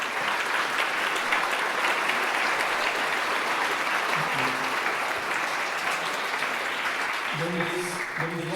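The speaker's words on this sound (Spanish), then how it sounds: "Un aplauso." Sustained applause from a church audience fills the room, steady and dense, with a voice briefly speaking over it near the end.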